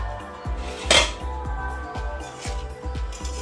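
A spoon stirs and tosses fried rice in a pan, producing a series of quick metallic scrapes and clinks at a steady rhythm, close by.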